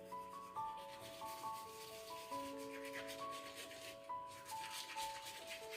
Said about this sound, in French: Et vous vous brossez les dents.